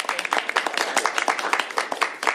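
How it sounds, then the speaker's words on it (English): Audience applause at a bill signing, a dense, steady run of claps lasting a couple of seconds, moderately loud and close. "Give another round of applause."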